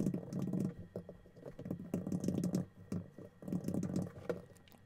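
Typing on a computer keyboard to sign in to a Google account: quiet bursts of rapid key clicks come in several short runs with brief pauses, close and with no voices.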